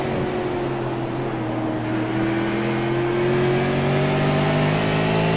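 Race car engines in a Fascar sim racing video game at South Boston drone and whine steadily, with rising tonal pitches as the cars accelerate, loud and continuous with no talk.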